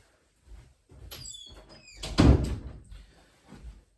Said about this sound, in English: I'm gonna close my office door.